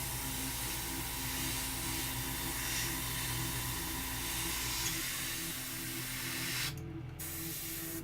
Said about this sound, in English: I'm going to spray that over everything I just did, but very lightly